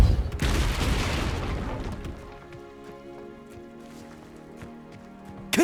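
Depulso force spell striking in Hogwarts Legacy: a loud, deep whooshing impact for about two seconds, then a long quieter tail of faint game ambience and light taps, with no voices.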